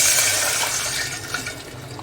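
Water poured into a pot of rice for plain jeera rice, a steady close gushing and splashing stream that runs continuously without pause.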